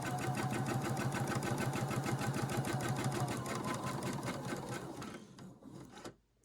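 A sewing machine stitches quilt block pieces for a lone star or LeMoyne star block, running in a steady, rapid mechanical rhythm at close range before slowing and stopping near the end.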